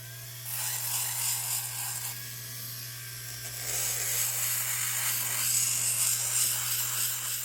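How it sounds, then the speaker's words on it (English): A Foredom rotary tool with a diamond bit grinds the surface of a rock, a bright high-pitched whirring and gritty abrasion that rises and shifts as the bit moves, close and steady with a faint mains hum beneath. "Always keep the diamond bit moving."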